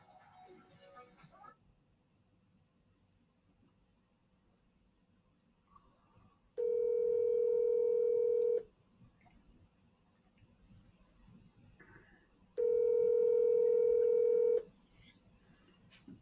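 A telephone line sounds two long, steady ringback tones of about two seconds each, loud and clear, separated by quiet pauses with faint background noise before them.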